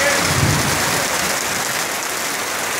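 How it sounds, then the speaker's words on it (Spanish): Heavy rain pours down during a motorcycle ride on a Suzuki GN 125 H on the road to Tehuacán, a steady, dense hiss of water that stays loud and constant throughout with no voices. "Vamos a ver si podemos pasar bajo la lluvia, lo cual es muy difícil porque está cayendo demasiada agua"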